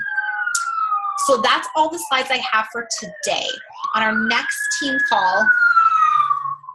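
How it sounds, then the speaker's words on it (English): A fire truck or police car siren passes outside, a long wailing tone sweeping down and back up, audible under and between steady indoor speech throughout. "I don't know if that's a fire truck or a police car or what's going on."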